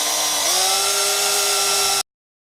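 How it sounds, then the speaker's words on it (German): A power drill bores holes while parts are fitted during a DeLorean time machine replica conversion: a steady, close whine that steps up slightly in pitch after half a second, then cuts off abruptly after about two seconds, with no talking. "Als nächstes die weiteren Löcher gebohrt."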